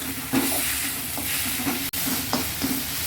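Onions and tomatoes sauté in a hot pan for a brinjal and drumstick thokku, giving a steady close sizzle broken by soft stirring scrapes, with no voices.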